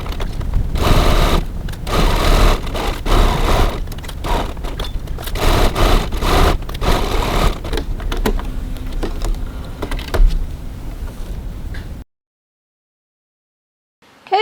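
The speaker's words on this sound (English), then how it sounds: "now we're going to go over to the sewing machine and we're going to baste those 3 raw edges" Sewing machine bastes the raw edges of a bag with a 6mm seam, running in loud rapid bursts with short pauses between runs, close up, then falls silent near the end.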